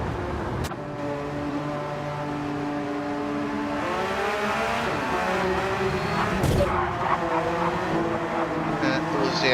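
Porsche Cup race cars spinning out in Gran Turismo 7, several engines droning and revving with rising and falling pitch sweeps, loud and continuous with a sharp skid or impact burst midway.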